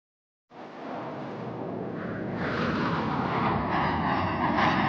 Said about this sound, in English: Everything this airplane could do, Greg is showing you here today.